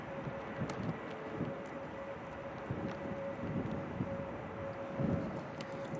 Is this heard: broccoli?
no